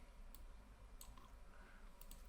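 A computer mouse clicks a few times, soft and close, in a quiet room with faint background hum and no talking.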